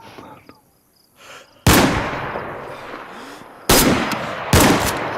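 Loud gunshots from DayZ: after a faint lead-in, a sharp blast hits, then two more heavy cracks follow a couple of seconds apart, each with a decaying echo.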